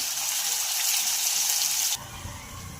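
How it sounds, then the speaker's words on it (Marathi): Spice paste with cumin and mustard seeds frying in a pan, a loud steady hiss and sizzle up close for about two seconds that then drops off to a quieter stir. "तर इथं वाटण घातलेलं आहे याला पैकी असं परतून घ्यायचं आहे"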